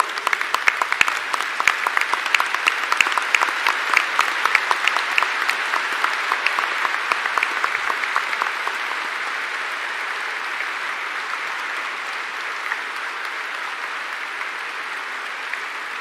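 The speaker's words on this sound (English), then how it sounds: "Let us give him a huge round of applause." Audience applauding the Vice President at a spirituality festival gathering at Kanha Shanti Vanam, a dense steady clapping that is loudest at the start and gradually thins to a softer sustained patter.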